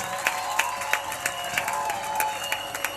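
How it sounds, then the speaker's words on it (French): Steady applause from an audience at a school's 60th anniversary ceremony, a dense wash of many hands clapping with small bursts of sharper claps, moderately loud and continuous, with no speech over it. "sous vos applaudissements, bien sûr"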